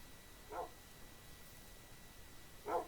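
Dogs in a modded Minecraft game give two short, faint barks about two seconds apart over a quiet background.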